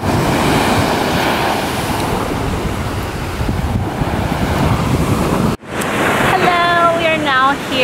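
Ocean surf rolls and crashes continuously at Panther Beach, Santa Cruz, on a gloomy day, with heavy wind buffeting the microphone. The roar drops out briefly near the end, then returns with higher tonal chirps over the waves.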